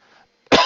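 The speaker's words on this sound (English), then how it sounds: "It's making me cough a lot." A single sharp, loud cough bursts out close to the microphone after a moment of near silence.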